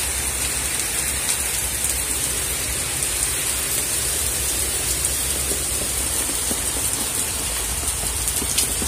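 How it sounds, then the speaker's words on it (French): Heavy rain lashes down under extremely strong wind during a Cévennes storm. The downpour makes a dense, constant roar close by, with scattered louder drops and gusty hiss. No voices are heard. "la pluie, elle est carrément balayée la pluie"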